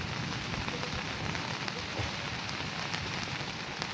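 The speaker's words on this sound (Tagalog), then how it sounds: "Bakas bigla yung ulan eh." Steady, dense rain pours down continuously at a campsite, a heavy wash of drops hitting a surface with no pauses or voices.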